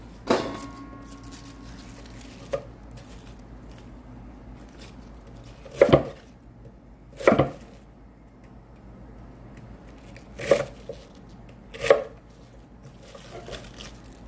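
A knife chopping cabbage into small pieces for kimchi on a board, with four or five sharp, separate cuts spaced a second or more apart over a quiet room.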